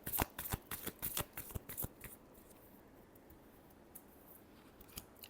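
Tarot cards are shuffled by hand in quick riffling bursts, crisp and close, over the first two seconds, followed by quieter scattered taps and card slides.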